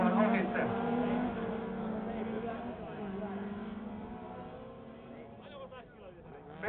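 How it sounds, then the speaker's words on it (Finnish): Autocross race cars in a final roar past with a steady, droning engine note that slowly fades, while a commentator talks over the action. "Pelkiömäki siellä ilman jarruttelee"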